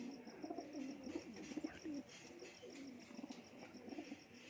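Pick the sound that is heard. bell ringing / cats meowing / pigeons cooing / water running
pigeons cooing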